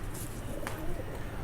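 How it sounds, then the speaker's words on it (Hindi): A jumbo-size Rampuri pigeon gives a soft, brief coo, low and close, set against a noisy indoor background. "ये देखें बेहतरीन बादशाह कबूतर है माशाल्लाह।"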